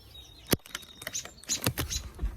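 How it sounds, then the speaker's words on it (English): An agitated mother bird near a nest of baby birds gives sharp, scattered calls and flutters, with several abrupt bursts close by and quieter chirps between them. "it's getting harder to check because mama bird is not happy"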